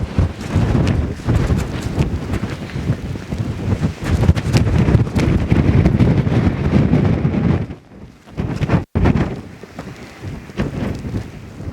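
Strong gusty wind on an exposed hilltop at the Staffordshire Roaches, Peak District, buffets the microphone in loud, roaring bursts, easing briefly before dropping to a softer rush near the end.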